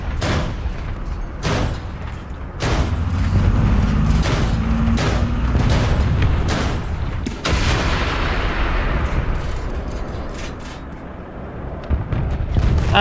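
Artillery fire in the War Thunder video game, several loud deep booms spaced across the stretch with rumbling tails and low battlefield and engine noise between them, no talking.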